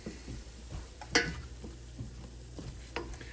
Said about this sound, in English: Just going to stir that all in really well.